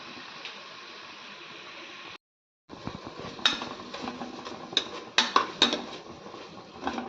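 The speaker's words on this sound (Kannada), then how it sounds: "ಚೆನ್ನಾಗಿ ಫ್ರೈ ಮಾಡ್ತಾ ಇದ್ದೇನೆ" Tomato bath cooking in a pan, with a soft steady frying hiss broken by a short gap, then repeated clinks and scrapes of a metal utensil against the pan, close and moderate.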